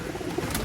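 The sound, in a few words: racing pigeons cooing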